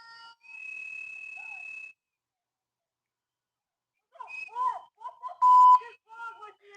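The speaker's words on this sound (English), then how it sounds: "blowing the whistles." Whistles blown by protesters in a street as officers make an arrest: one long steady shrill blast, a pause, then several shorter chirping whistle bursts with a loud piercing peak, mixed with faint voices.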